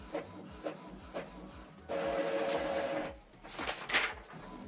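An Epson ET-2862 printer runs a test page with several short mechanical clicks and bursts, then a long steady whirring feed pass and a final rattling stretch, loud and close with no talking.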